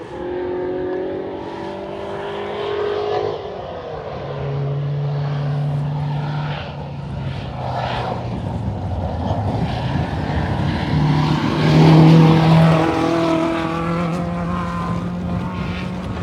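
Rally cars, including a Volvo Amazon, race on a gravel forest stage with engines droning and rising as they approach and pass, shifting pitch under a steady rumble of wind and gravel.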